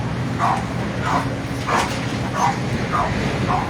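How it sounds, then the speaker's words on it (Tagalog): Dogs bark in repeated short yelps at a home during a house demolition, about six barks at a roughly even pace against a murmur of background noise. "Tingnan nyo, pati mga aso dito."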